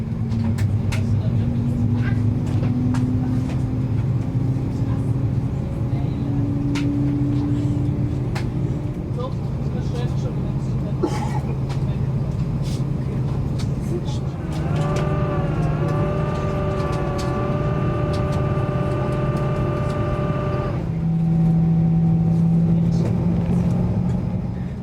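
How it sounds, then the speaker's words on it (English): Edelweiss Airbus A340 with CFM56 engines spooling up during pushback, a steady low cabin rumble joined partway by a rising whine, with occasional clicks and a voice talking over it. "now it's finally time for pushback and engine startup"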